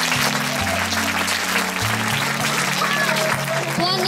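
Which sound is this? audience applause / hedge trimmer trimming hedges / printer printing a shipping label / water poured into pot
audience applause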